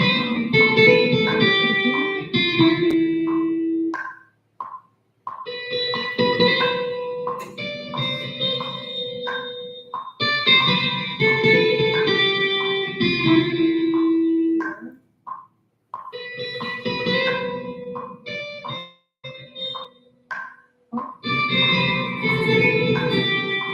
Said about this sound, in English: So I'll add reverb.